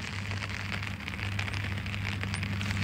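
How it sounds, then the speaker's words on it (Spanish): Rain falling outdoors in a rural pasture as Storm Pilar arrives, a dense steady hiss of drops pattering on surfaces with a low rumbling undertone, continuous and fairly close. "Ya está lloviendo."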